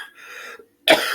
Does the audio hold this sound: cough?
yes